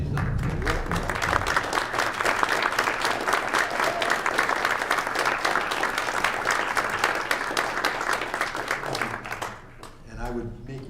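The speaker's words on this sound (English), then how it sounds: "join me in standing and giving a round of applause to Pat." Standing applause fills a school board deliberative session in Madison, New Hampshire: dense, steady clapping from a roomful of people lasts about nine seconds, then fades into scattered claps.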